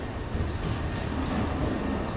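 A Trenitalia Jazz ETR 425 regional train rolls into Limone Piemonte station with a steady, close rumble of wheels on rail.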